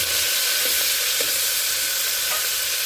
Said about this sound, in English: while the grease is still hot, you want to go ahead and add your onion